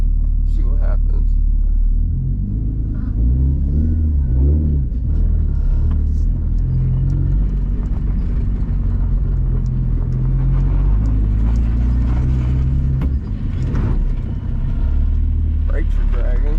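A freshly installed engine in an Infiniti G35 rumbles heavily as the car drives down the road. The low drone is loud and close and rises briefly as it accelerates, with someone talking over it now and then.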